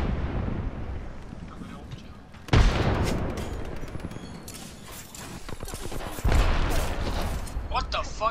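Gunfire in the video game Apex Legends, heard as two loud sharp onsets followed by dense crackling fire and noisy game sound, with a player's voice talking over it.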